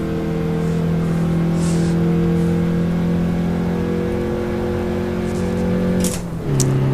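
A car engine drones loudly and steadily in fourth gear, holding a rising tone, then drops abruptly in pitch near the end as the driver downshifts, with no talk over it.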